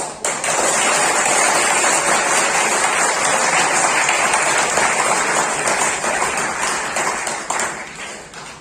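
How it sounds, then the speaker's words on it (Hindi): A seminar crowd at BCE Bhagalpur bursts into loud, enthusiastic, sustained clapping, a thick close roar of hands lasting throughout with only a slight taper at the end. "thank you so much for such A enthusiastic clapping"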